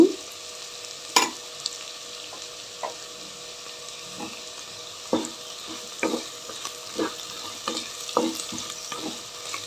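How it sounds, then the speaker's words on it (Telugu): Sago pearls stirred in a frying pan while cooking khichdi: a faint, steady sizzle beneath intermittent scraping stir strokes and light clinks, spread irregularly through the clip with no talking. "ఇప్పుడు సగ్గుబియ్యం యాడ్ చేసుకున్నాం ఇందులోకి సగ్గుబియ్యం వేసేస్తున్నా"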